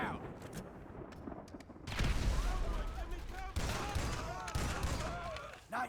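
In the video game GTA V, a grenade blast and a burst of gunfire erupt loud and close, with rapid shots and booms rolling on under brief shouted voices.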